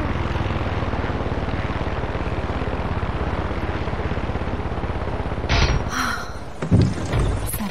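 Helicopter in the video game Far Cry 6, a steady loud rotor and engine drone that runs continuously, then shifts with a few bumps and bursts near the end as the craft comes down to land.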